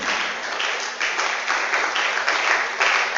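Congregation in a church service clapping together, a steady dense wash of applause that holds loud throughout with no talk over it.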